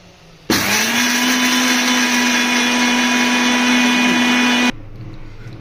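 A mixer grinder grinds sesame seeds into powder for sesame laddus, a loud steady motor whine that starts abruptly, runs for about four seconds and cuts off.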